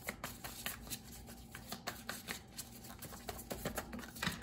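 Tarot cards are shuffled by hand at close range, a quick run of papery riffles and taps that keeps a busy, uneven rhythm throughout with no talking.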